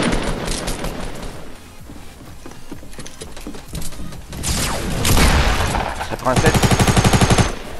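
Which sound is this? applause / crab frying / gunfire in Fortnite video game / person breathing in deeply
gunfire in Fortnite video game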